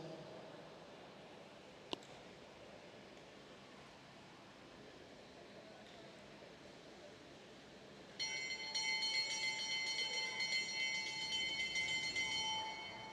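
Bell rung for the final lap of a junior cycling race, a steady ringing tone with sustained harmonics entering partway through and continuing to the end, over quiet arena background.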